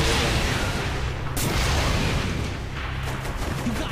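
Gunfire aimed at a tank in Saints Row The Third, a dense, continuous barrage of booming shots and blasts, loud and unbroken with a sharp burst partway through.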